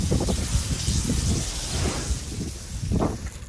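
Water from a hose rinses a soapy motorbike, a continuous splashing, spraying hiss running throughout at close range.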